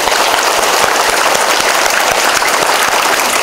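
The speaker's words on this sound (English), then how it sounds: "And clap your hands." Hands clapping steadily and loudly for a few seconds as a group claps together during an energy-healing session, a dense continuous patter with no talk.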